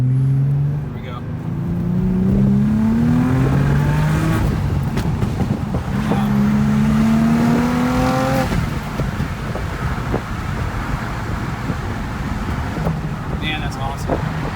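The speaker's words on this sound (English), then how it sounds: "I totally forgot how hard this car pulls in the second and third gear." A 2000 Audi B5 S4 with all-wheel drive revs up hard in second gear and rises in pitch, drops off at a gear change, then climbs again, loud and close, with wind roar.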